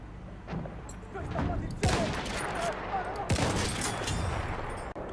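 Rapid automatic gunfire in Battlefield 1 crackles in quick bursts with heavier booming shots and explosions, loud and close, while someone talks over the fighting.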